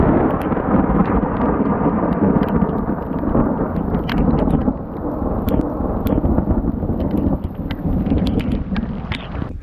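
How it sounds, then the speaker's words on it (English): Thunder from a lightning storm high on the Colorado Trail at about 12,000 feet rolls and rumbles continuously for around ten seconds, loud and close, with rain hissing underneath. "there was still thunder nearby"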